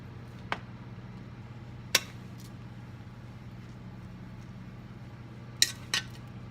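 A metal spoon clinks and taps against a dish while toppings go onto a Greek pizza, giving a few sharp, isolated clicks spread apart, with a double tap near the end, over a steady low hum.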